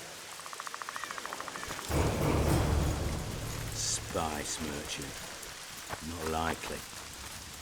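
Rain hisses steadily in the video game The Witcher 2: Assassins of Kings, a broad, fairly loud wash under game sounds and a voice speaking briefly in character.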